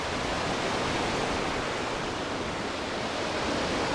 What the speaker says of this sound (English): Wow, the lake is noisy today.